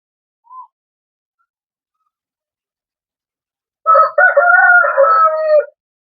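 A rooster crows once at home, a clear, loud cock-a-doodle-doo lasting about two seconds near the end, preceded by a tiny faint chirp and otherwise silence.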